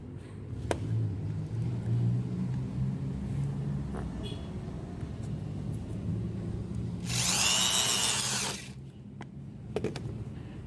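A Bitec SDM 10-28 AD electric torque drill whines loudly for about two seconds as it drives a screw, after quieter background hum and a few clicks.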